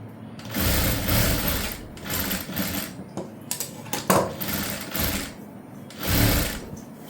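A sewing machine runs stitches over the piping on a prince cut blouse, droning in near, continuous bursts with short breaks and small mechanical clicks.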